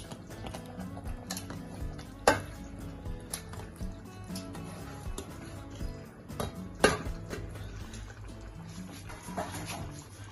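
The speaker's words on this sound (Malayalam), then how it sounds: "നമുക്ക് നല്ല രീതിയിലൊന്ന് ഇളക്കി കൊടുക്കണം." Fresh chopped mutton being stirred in a pot for dum biryani, heard as soft wet squelches and scrapes with a couple of sharper knocks of the spoon against the pot.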